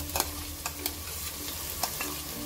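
Ground mint and ginger paste sizzles in hot oil in a pan for vegetable pulao, a soft steady crackle with a few light scraping taps of stirring, close and fairly quiet.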